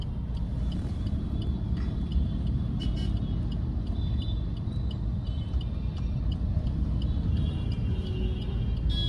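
Dense working-day road traffic roars steadily with continuous engine rumble and occasional faint horn toots, heard from within the flow of vehicles.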